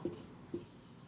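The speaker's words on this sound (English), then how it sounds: "let us write here profit for the year first" Two short scratchy pen strokes on paper while jotting a profit figure into an accounts exercise, quiet and close, spaced about half a second apart.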